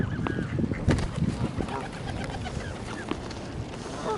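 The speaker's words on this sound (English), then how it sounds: "There's more Canadian geese down there too." Canada geese honk intermittently in a bird park on the Isle of Wight, scattered calls at mid distance mixed with other bird chatter and a busy outdoor background.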